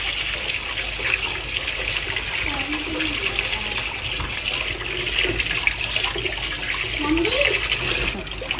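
Rice being washed in water in a pot, with a steady watery sloshing and trickling that runs throughout, close by, while a faint voice murmurs in the background.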